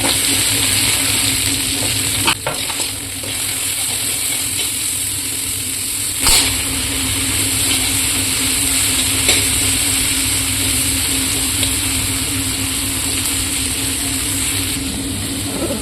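Ingredients for shahi paneer fry steadily in hot oil, a continuous close sizzle with brief clatters of stirring, no voices.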